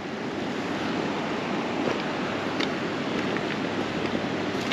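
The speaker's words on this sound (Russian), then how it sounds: "Речка хорошая, красивая, полноводная." A full-flowing river in Tikhonovka, Lazarevsky district, rushing as a constant broadband roar of water, steady and close, with wind on the microphone and no talk.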